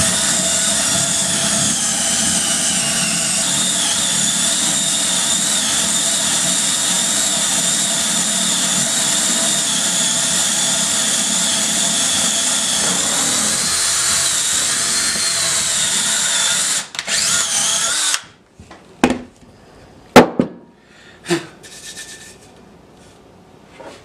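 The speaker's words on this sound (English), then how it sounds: "I'm going to put a block up under there and drill me a half inch hole." A drill bores a half-inch hole through a wooden block in a woodshop, a steady, loud whirring grind that holds for about seventeen seconds, then cuts off, followed by a few sharp knocks and clunks.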